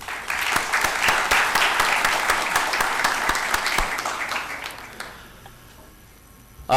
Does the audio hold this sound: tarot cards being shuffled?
no